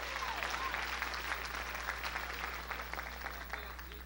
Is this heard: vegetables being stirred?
no